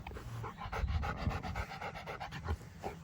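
A Rottweiler pants rapidly and steadily up close, a quick run of rhythmic breathy huffs with no one speaking.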